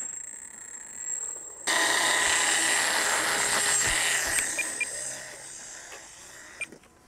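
A Magnus effect model plane's motor during a test flight starts abruptly after a quiet moment, then whirs loud, steady and close for several seconds, with a few small knocks near the end as it fades slightly.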